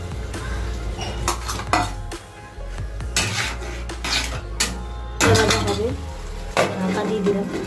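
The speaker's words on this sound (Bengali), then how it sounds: "ঢাকা দিয়ে দিলাম" A metal lid goes down on a cooking pan of fried ginger-garlic spice paste on a low flame, with a run of clanks, clinks and knocks of cookware, close and fairly loud amid kitchen noise and a voice.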